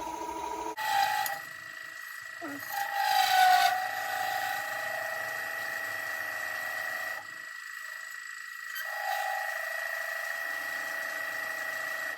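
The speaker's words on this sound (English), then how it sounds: "use a wire to burn it in so you get a kind of a black line around" A wire is drawn tight against a spinning wooden biscuit cutter to friction-burn a dark decorative line, giving a steady, high rubbing whine with brief louder surges, first near the start and again partway through.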